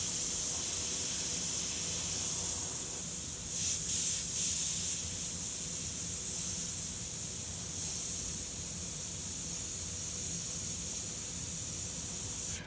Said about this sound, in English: use the actual line brushwork on top of the airbrush